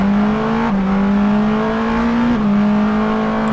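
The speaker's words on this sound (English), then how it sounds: "dump the clutch, and up you go" A Porsche 963 RSP race car accelerates hard after a clutch dump, its engine note loud, close and climbing steadily through two quick gear changes, with no talking over it.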